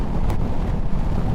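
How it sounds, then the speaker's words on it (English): Strong buffeting wind roars continuously across the microphone while riding a budget adventure motorcycle with almost no wind protection, the engine buzzing hard at around 6,200 rpm beneath the loud, steady rush. "it's extremely windy"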